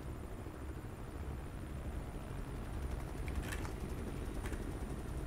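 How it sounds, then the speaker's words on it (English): A helicopter in the Call of Duty Cold War video game, a steady low rotor drone and engine rumble that holds constant throughout with a slight swell near the middle and no talk. "That's a fucking helicopter."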